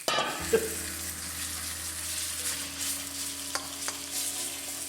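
Chicken frying in oil in a wok produces a soft, steady sizzle with occasional stirring clinks and scrapes, close up and moderately quiet, with no voices.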